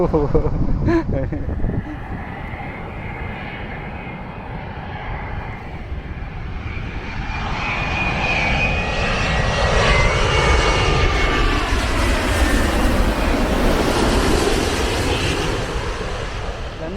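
An airplane coming in to land at Phuket airport, its engine roar building steadily and loudly overhead for the full stretch, with voices and ambient outdoor noise beneath it.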